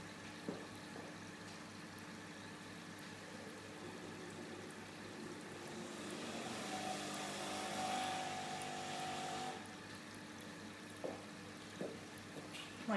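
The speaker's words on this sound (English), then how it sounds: "My kettle is my coffee machine. That's what that noise was." A kettle heats water with a soft hiss and gurgle, building gradually to a faint rushing burble before easing off, fairly quiet throughout.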